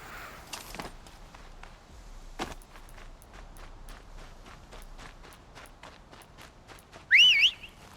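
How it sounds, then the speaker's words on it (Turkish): A character whistles in the video game Horizon Zero Dawn, a short rising-and-falling whistle near the end that follows soft, regular footsteps on the ground. "Lan ne ıslık attın lan."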